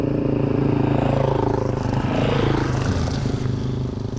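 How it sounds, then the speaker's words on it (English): A small 250 dirt bike with a noisy exhaust passes on a group adventure ride near Perth, its loud buzzing engine note rising and then falling away as it goes by. "That is a noisy mofo exhaust on that little 250."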